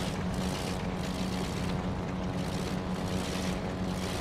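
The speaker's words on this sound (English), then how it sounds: "Because that is not a happy engine sound." A troubled spaceship engine in a space-combat video game, played with a flight stick, drones steadily with a low hum and broad rushing noise, constant and fairly loud throughout with no speech.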